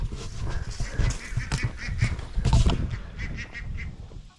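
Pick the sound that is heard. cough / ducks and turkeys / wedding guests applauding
ducks and turkeys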